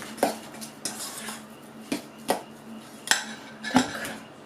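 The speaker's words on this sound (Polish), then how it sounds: "Pokruszymy ser widelcem." Fork scraping and tapping against a bowl while crumbling cheese for baked cheese doughnuts, several sharp clinks spaced irregularly over soft scraping, close and fairly quiet, no talking.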